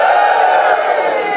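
A comedy club audience cheers and whoops in a loud, dense burst that lasts the whole moment.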